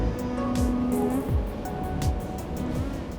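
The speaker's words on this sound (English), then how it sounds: "I add a little more throttle and put her into a turn." Absolute Navetta 58 yacht engines at around 2,100 RPM, throttled up as the boat heads into a turn: a steady droning hum with shifting tonal whine over a continuous rush of water and wind.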